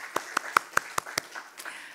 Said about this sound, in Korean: 우리 같이 한번 박수로 한 번 더, 그래요, 격려합시다